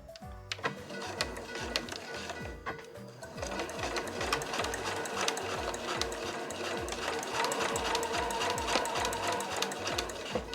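A home sewing machine runs steadily and close by, stitching quilted fabric for a tote bag, its needle clattering in a fast, even rhythm for the whole stretch with no voices.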